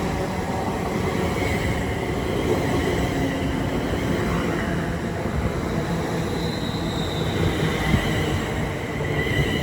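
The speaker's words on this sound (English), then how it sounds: "arriving now, the 11:30 London Northwestern Railway service from London Euston to Milton Keynes Central" A London Northwestern Railway service, a Class 350 multiple unit, pulls into Watford Junction on the West Coast Main Line with a steady, loud rumble and rail noise that holds throughout, with no voices.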